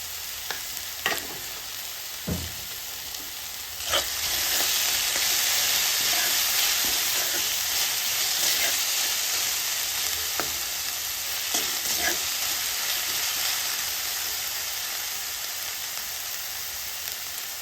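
Onion and capsicum with salt frying on a street-style tawa, a steady close sizzle with occasional clinks and scrapes of stirring, no voices.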